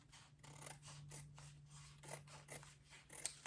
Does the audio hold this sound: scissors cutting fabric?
yes